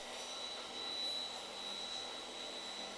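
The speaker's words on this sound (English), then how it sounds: "now I'm going to crank the blade through the board" A table saw blade runs through a wooden board for a floating shelf, giving a faint, steady whirring drone with a thin high whine that comes and goes, and no voices.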